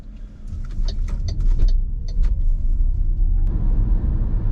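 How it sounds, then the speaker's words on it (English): An MG ZS EV electric car pulls away with a steady road rumble and a faint rising motor whine, loud and close from inside the cabin, with no talking. "we're just going to go for a drive in the ZS EV, so let's go."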